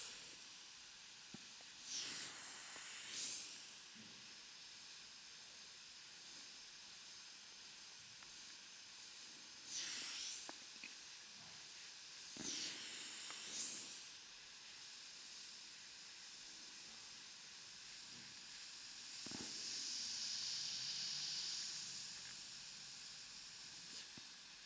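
An Iwata HP-C airbrush spraying paint on a portrait: soft, faint airy hisses in short bursts of a second or two, with a longer steady spray near the end over a quiet background.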